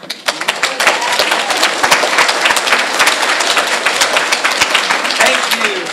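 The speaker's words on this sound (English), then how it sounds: "I order you all to applaud!" A drama camp audience applauds an Alice in Wonderland performance, with loud, dense clapping that carries steadily for several seconds, nearby voices mixed in.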